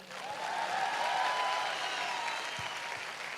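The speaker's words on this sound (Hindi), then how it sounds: "तालियां तो बजा दो यार" Audience applause at a business talk in a hall, a soft, moderately distant wash of clapping that swells and then tapers off, with no speech over it.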